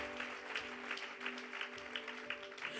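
Church congregation applauding to acclaim the Lord, a continuous patter of many hands clapping at moderate distance alongside a steady background hum, with little talk.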